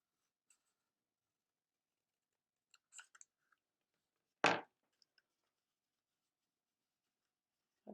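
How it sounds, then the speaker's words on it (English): Scissors make a single sharp snip partway through, cutting a slit into folded craft paper up to its centre line; a few faint rustles and taps of handling come before it in an otherwise quiet room. "Now I'm going to make another one in the middle at the front with my scissors"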